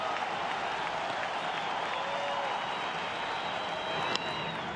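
Crowd at a Minnesota Twins at Detroit Tigers baseball game in 2009 applauding to encourage a struggling pitcher; a steady, distant wash of clapping fills the stadium, with a brief sharp crack near the end.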